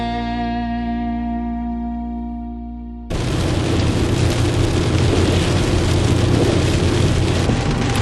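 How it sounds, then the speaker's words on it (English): Heavy rain pours down loudly and steadily after an abrupt cut from a sustained humming tone, a dense close wash of hiss lasting the final five seconds with no talking. "it's pouring with rain"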